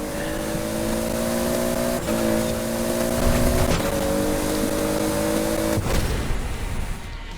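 Manual Toyota Supra in a Forza Horizon 4 quarter-mile drag race, engine screaming steadily in high revs with sharp gear shifts breaking the tone about every two seconds, loud and close throughout, then cutting off near the end.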